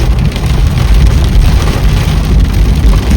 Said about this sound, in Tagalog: Ayan o, maulan. Malakas ang ulan.